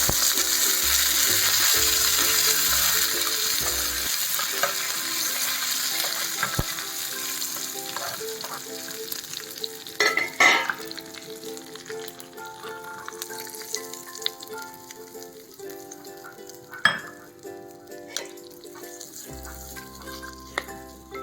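Cumin, dried red chillies and curry leaves sputter in hot oil for a tempering, a steady loud sizzle with occasional stirring clatter and pops, no voices.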